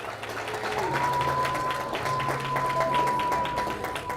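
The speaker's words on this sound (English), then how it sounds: "Let's give our community a great round of applause" A crowd gives a community round of applause at the ribbon-cutting opening of the new Elite Scholars Academy school building, steady clapping filling the room for the full stretch, with faint voices and a sustained tone underneath.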